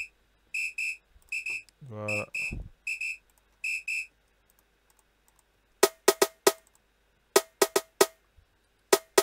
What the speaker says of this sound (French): Un sifflet.